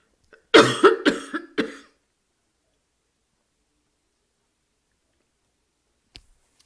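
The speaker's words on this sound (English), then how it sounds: "Excuse me, I'm going to cough." A burst of several harsh coughs in quick succession, close and loud, followed by silence and a faint click near the end.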